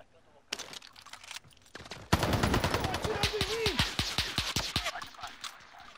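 Gunfire from a weapon picked up in a shooter video game, a quick machine-gun burst of sharp, evenly spaced shots after a few scattered single reports, loud and close with a voice speaking over part of it.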